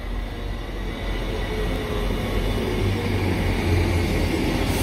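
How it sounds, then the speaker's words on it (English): A TransPennine Express Class 185 diesel unit on a Cleethorpes service runs into a station platform, a steady near rumble with low engine drone, rising slightly toward the end. "My train to Doncaster approaching platform 2"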